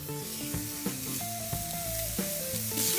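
A hamburger patty sizzles and fries in a hot pan, a steady close crackle running beneath tonal music throughout.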